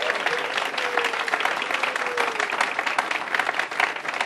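A crowd at a groundbreaking for a new Maryland DHCD headquarters applauds the Lieutenant Governor, a continuous, fairly distant wash of many clapping hands with a faint voice underneath.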